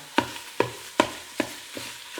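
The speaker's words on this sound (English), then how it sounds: "I'm just going around chopping up the meat" Sausage being chopped in a Ninja Foodi pot with a Pampered Chef mix and chop tool: six sharp, evenly spaced scraping jabs, close and clear, fading slightly toward the end, with no talking.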